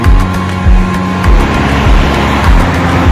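A Royal Enfield Standard 350 single-cylinder motorcycle, kick-start only, idles with a loud, steady low thump, its rhythmic beats pulsing close and unbroken with no voices.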